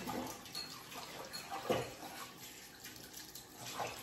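Dishes being washed by hand under a running kitchen tap, a steady close hiss of flowing water with occasional clinks and splashes as plates are handled, no talking.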